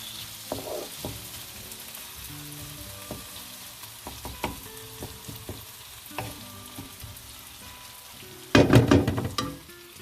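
Onions and tomatoes fry in a pan with a soft, steady sizzle, broken by a few spoon knocks and clinks, then a brief louder burst of stirring near the end; no one speaks.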